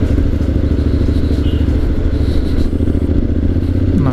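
Honda X-ADV 750 on a test ride: a loud, steady engine drone with heavy wind rumble, held without break from start to finish.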